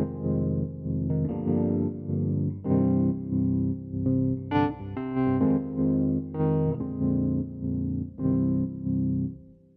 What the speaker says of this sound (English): So you get a couple different classic electric keyboard sounds.